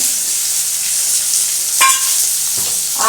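Chopped onion fries in hot oil in a wok for a mutton curry, a loud, steady hiss with brief stirring scrapes near the end.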